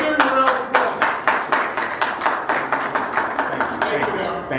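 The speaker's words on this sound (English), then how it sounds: "Let's give it a round of applause" A city council work session audience gives a round of applause, loud and close, with steady rhythmic clapping that keeps a fairly even pulse throughout before thinning slightly at the end.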